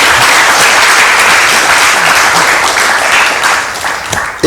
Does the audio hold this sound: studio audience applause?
yes